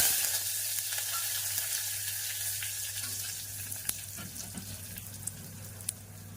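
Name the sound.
curry leaves and chillies sizzling in hot oil tempering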